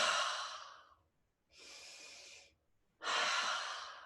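Three deep yoga breaths come close and alone: a long audible exhale, a softer inhale, then another strong outward breath, each separated by a brief quiet pause.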